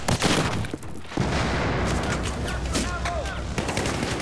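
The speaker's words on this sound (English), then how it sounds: "Someone's shooting at this place from the outside." Dense gunfire in a Battlefield 4 match on the Zavod 311 map, with rapid overlapping bursts and automatic fire sounding continuously and loudly throughout.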